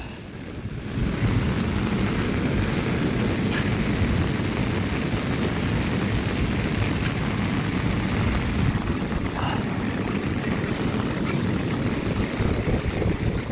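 Steady, dense roar of heavy rain mixed with gusting wind on Lubak Lubak Road in Bucana, continuous and loud throughout with no pauses.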